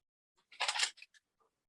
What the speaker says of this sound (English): you can use a pair of scissors just to cut into the corner